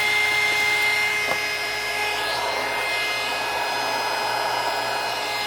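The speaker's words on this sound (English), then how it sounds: "we're gonna get our heat gun and start heating this one" A heat gun blows steadily, warming a mixed media card for embossing, giving a loud continuous whooshing hum with a faint click near the start and no talking.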